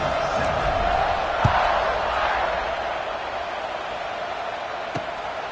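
A stadium crowd cheers at kickoff in the NCAA 26 college football video game: a broad, steady roar of many voices with a couple of sharp thuds, easing slightly toward the end.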